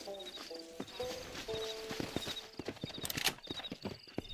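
Horse hooves clip-clopping in a video game, a rhythmic run of sharp hoof knocks on hard ground alongside tonal game music notes, with a brief voice in the mix.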